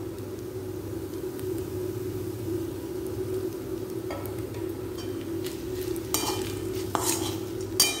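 Taro root frying in oil in a pan, a steady low sizzle with occasional scraping stirs and utensil clinks growing busier toward the end, no talking.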